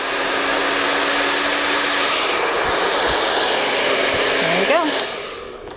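A hair dryer blows steadily and loudly while drying hair with a styling product, switching from cool air at the roots to heat on the lengths, its whoosh easing off near the end as a voice speaks briefly.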